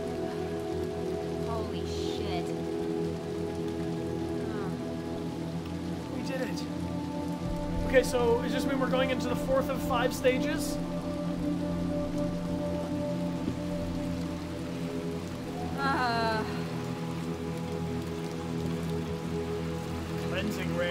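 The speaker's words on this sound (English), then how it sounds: "It's still raining." Steady rain falls throughout in the video game Little Nightmares II, a constant hiss over a low droning game soundscape, while people talk briefly over it.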